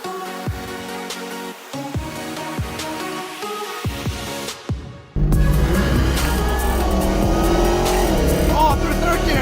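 A Kia Stinger accelerates hard through the gears with a loud, close engine roar that builds and shifts. Music and voices play over it.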